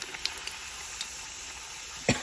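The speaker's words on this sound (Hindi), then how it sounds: "हमारा ऑयल हो चुका है, अब डालेंगे हम पूरी।" Puris frying in hot oil in a home kitchen during Ramadan, a steady close sizzle and hiss with a few small pops and one sharper splash near the end, no talking over it.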